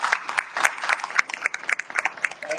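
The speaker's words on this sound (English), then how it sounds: "let's give all of our candidates a big round of applause" Scattered clapping from a forum audience for city council at-large candidates, a loose patter of claps at moderate distance with a few voices mixed in.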